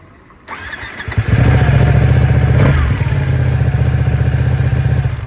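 A 2015 Ducati Panigale 899 sport motorcycle engine cranks and fires up, then settles into a loud, steady, rumbling idle close by.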